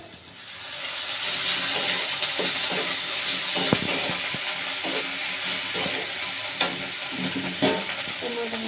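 Ground paste cooks with browned onions in a pan, a continuous hissing sizzle broken by occasional spoon scrapes and stirs, close and steady with no voices.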